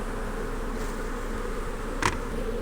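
Honey bees hum steadily around an open beehive on a warm day, a continuous close buzz with one brief louder pass near the end.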